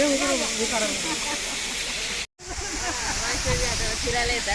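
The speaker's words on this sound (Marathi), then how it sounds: "घाटामध्ये असलेला हा धबधबा" A waterfall in a mountain ghat on the Maharashtra pilgrimage route gives a steady, close, full rushing roar that continues throughout, broken only by a brief gap midway.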